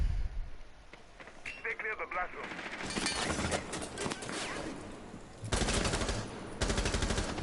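Video game gunfire from the Jaeger during a competitive esports match between Digital Chaos and Team Rain crackles in rapid automatic bursts with a few single shots, mixed with other game effects and overlapping voices.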